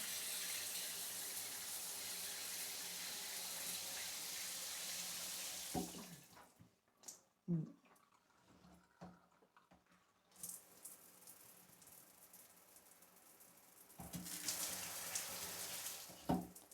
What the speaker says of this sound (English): the shower.